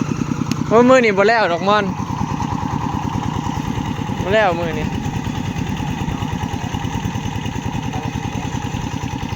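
A tractor engine used for hired rice-field plowing idles with a steady, pulsing chug close by, while someone speaks briefly over it twice.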